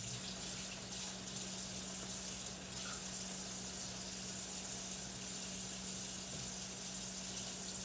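A tap runs steadily while an onion is rinsed under it: a faint, continuous rush of water splashing into a sink, with no voices.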